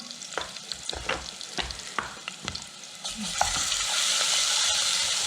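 Garlic and green onion seasoned with salt and pepper sautéing in a pan: scraping stir strokes and clicks at first, then a steady, louder sizzle swelling for the last couple of seconds, with no talking.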